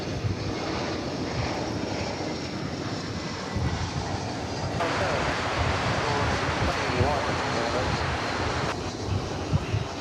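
An airliner inbound from Tampa flies near DFW Airport, a broad, steady roar that swells midway and holds, heard outdoors over wind, with no distinct talk.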